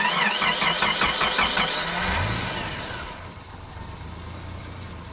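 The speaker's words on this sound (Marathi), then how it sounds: "पहाटेच्या शांततेत गाडीच्या स्टार्टरचा आवाज खूपच मोठा वाटला." A car's starter cranks in quiet early-morning surroundings, then the engine catches with a rising whine and settles into a lower, steady idle, loud and close.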